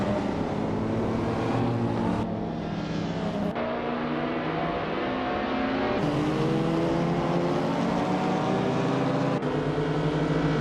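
Race cars duel for position in a racing video game, engines whining and shifting pitch continuously as they accelerate and change gears, loud and close with no talk over the steady mechanical roar.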